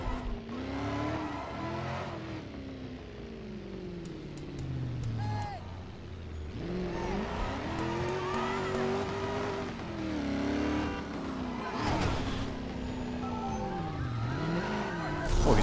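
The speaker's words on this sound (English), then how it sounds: "Driving an R8." Audi R8 in the Driver: San Francisco video game, engine rising and falling through gear changes with tire squeals, under and alongside a voice.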